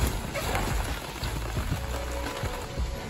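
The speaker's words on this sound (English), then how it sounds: "The rain." Steady rain patters on a hard surface nearby, a continuous dense hiss with scattered heavier drops and no voices.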